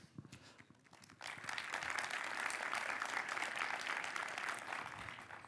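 Audience applause at a security conference talk on fault injection in DJI drone firmware, starting faintly then swelling into dense, sustained clapping from a sizeable crowd that fills the room.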